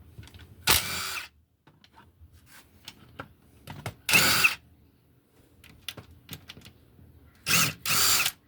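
A power tool backs out engine case bolts on a 2006 Honda 250EX ATV in three loud, close bursts of about half a second each, with quiet gaps and faint handling clicks between them.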